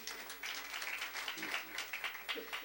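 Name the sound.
audience applause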